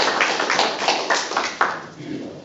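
Applause from a group at an Atlanta Korean Association quarterly board meeting: a steady patter of clapping hands with sharper individual claps, fading out after about two seconds.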